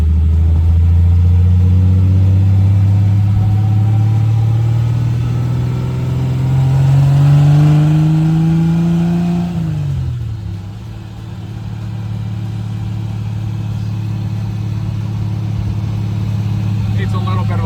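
Engine and new exhaust of a 1973 Triumph TR6 on the road, a loud steady drone climbing in pitch then dropping sharply as it downshifts, then settling into a lower hum, with people talking over it.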